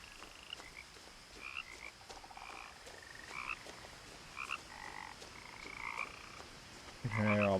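Frogs croak in a rhythmic, overlapping chorus through a night-time scene in the video game What Remains of Edith Finch, with steady crickets trilling beneath and no talking.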